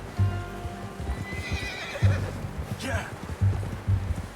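A horse whinnies while hooves clop in an uneven rhythm nearby, with a voice speaking briefly, in the video game Red Dead Redemption 2.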